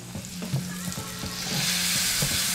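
Bacon and chicken pieces sizzle loudly in a hot pan, and a splash of balsamic vinegar hits them, so the hiss swells into a broader, brighter sizzle. Soft rhythmic scraping runs throughout.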